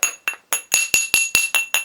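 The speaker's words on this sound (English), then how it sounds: "we're going to hit it with a tiny round hammer to get it flat again" Small round hammer tapping a metal solenoid strip from a Volvo EC14B/EC15B mini excavator starter motor flat, nine sharp ringing metallic strikes in a quick steady rhythm, close and loud with no talk.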